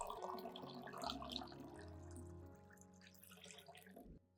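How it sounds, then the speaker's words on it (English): Clean water pours into a container to dilute concentrated plant fertilizer, a soft, faint splashing trickle running steadily for several seconds before stopping abruptly at the end. "I will dilute this concentrated solution with 2 liters of clean water"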